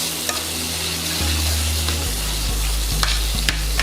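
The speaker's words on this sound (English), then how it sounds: "in there, 2 cloves of garlic, about it. Give that a stir around" Two cloves of garlic sizzle loudly in a frying pan while being stirred, with close crackling, a few knocks and scrapes of the utensil, and a low burner rumble underneath.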